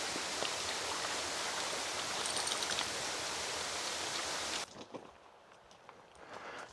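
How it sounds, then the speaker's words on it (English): A small waterfall just off the side of a road gives a steady broadband rush of falling water that cuts off abruptly, leaving quieter ambient trickling and faint outdoor sounds. "just off the side of the road, there's this first little waterfall"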